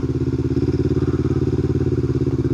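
A motorcycle engine runs at steady, loud high throttle, a dense pulsing drone that holds evenly throughout with no voices.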